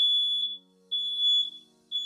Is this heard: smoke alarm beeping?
yes